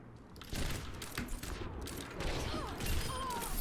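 Widowmaker sniper rifle shots in the Overwatch video game, sharp cracks scattered through a dense, busy mix of continuous game effects and clatter, with no quiet moments.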